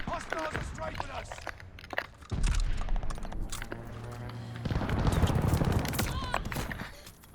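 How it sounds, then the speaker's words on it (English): Strafing gunfire in the shooter game Call of Duty Vanguard: sustained bursts of automatic fire and impacts crackle loudly through a dense mix of battle noise, intensifying toward the end. "Hostiles are strafing us."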